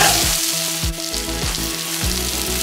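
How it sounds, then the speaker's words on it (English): Egg fried rice stir-fried in a hot pan, a steady loud sizzle broken by repeated scraping strokes of the spatula roughly every half second, with no voices. "Make sure you're mixing it well."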